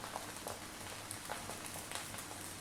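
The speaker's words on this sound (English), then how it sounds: "can you hear that? That's where you want it. You actually want the rice to be actually frying." Dense, steady crackling sizzle of rice frying with mushrooms in a hot pan for mushroom fried rice, continuous and close, with no talking.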